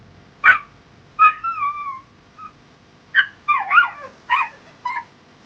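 A frightened dog named Max, alone at night in the house, gives a string of strange high whimpering cries and yelps, several short wavering wails with pauses between, close and clear in an otherwise quiet room.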